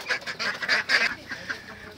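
Several caught ducks call close by in short, harsh, honking bursts that come in quick succession, then taper to quieter calls.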